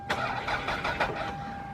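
A starter motor cranks a 1996 Toyota RAV4 engine in a quick rhythmic churn for under two seconds without catching, fairly quiet with a faint steady whine and no fuel pump sound.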